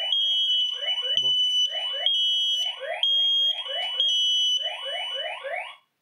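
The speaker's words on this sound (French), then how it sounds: "Détecteur de fumée déclenché, localisé." An X-Sense smoke detector sounds its alarm indoors, a loud, piercing repeating pattern of shrill electronic beeps with a steady high tone, going on for several seconds before stopping abruptly.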